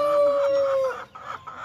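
An organic chicken calls out, a drawn-out crowing or clucking cry followed by softer clucks, close and fairly loud with little else around.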